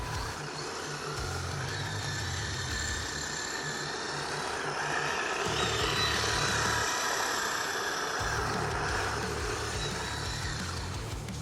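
A Kyosho Fazer D2 Toyota 86 RC drift car on G-Force Hayate wheels and recommended drift tyres runs steadily with a continuous whirring drone, while a low rumble swells and drops in bursts as it slides around, with no talk.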